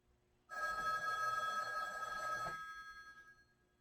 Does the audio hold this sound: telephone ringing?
yes